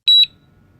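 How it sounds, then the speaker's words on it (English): LumeCel AutoFoam soap dispenser gives one short, loud, high-pitched electronic beep as its nozzle engages, then quiet. "simultaneously engage the tip of the nozzle and the adapter key into the adapter arms and listen for audible beep"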